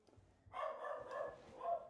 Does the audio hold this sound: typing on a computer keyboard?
no